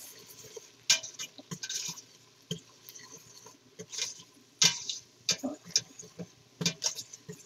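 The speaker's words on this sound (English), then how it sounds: "Now we're going to add 1/4 teaspoon of minced garlic and just stir that around just for a few seconds." A utensil stirring minced garlic in a pot for cheesy potato soup, giving irregular scraping taps and clinks against the metal, fairly close but soft, alone without talk.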